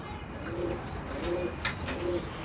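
A pigeon coos softly nearby, repeating three low, rolling calls at a steady pace over a faint background hiss.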